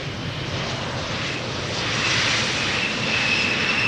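KLM-operated airliner arriving from Leeds at Amsterdam Schiphol Airport: a steady, broad engine roar that swells a little louder partway through, heard alone without talking.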